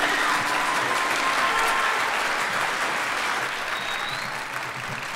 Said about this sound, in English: You can clap now, that's fine.